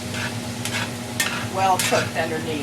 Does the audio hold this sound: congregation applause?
no